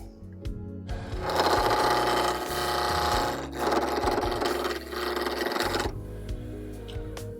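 A drawknife shaves and rounds the sharp 90-degree edges of a wooden piece, producing a loud, close, rasping scrape in several sustained strokes with short breaks between them.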